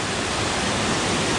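Rollo Fall waterfall roaring as a steady, dense broadband rush of falling water, close and loud with no pauses.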